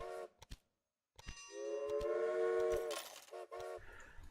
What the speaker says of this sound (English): And then we can start running trains between the 2 cities.